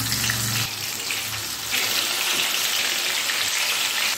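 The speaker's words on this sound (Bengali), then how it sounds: "তখন এর মধ্যে একটা একটা করে মাছ দিয়ে খুব ভালো করে ভেজে নিতে হবে" Boal fish pieces frying one at a time in hot mustard oil, a steady loud hiss and crackle that stays continuous throughout with no voices.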